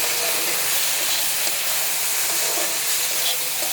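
Mustard paste being stirred and fried in a hot pan gives a steady, dense sizzle and hiss, close and continuous throughout with no talking.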